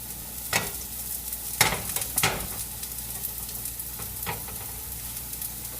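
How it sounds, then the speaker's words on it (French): Protein pancake batter made without flour is poured into a hot frying pan and sizzles steadily, a constant close hiss with a few brief louder crackles and scrapes near the start, and no one speaking. "Je vais le verser dans ma poêle."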